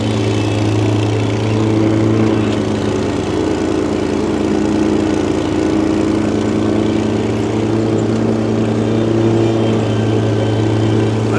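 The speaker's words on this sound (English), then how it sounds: "Make another pass here so I don't mow grass all on the house right there" A lawn mower engine drones steadily and loudly up close while cutting grass around a house, holding an even, unbroken hum with slight load changes and no talk.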